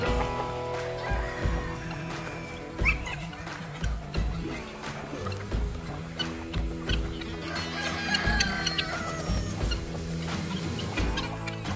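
Several chickens cluck and squawk close by, with rustling and scattered thumps in a busy outdoor pen.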